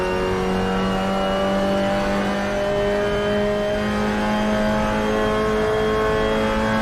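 A race car engine in Assetto Corsa is held at full throttle, and its loud, rising roar climbs steadily in pitch as it accelerates out of a corner. No speech is heard over it.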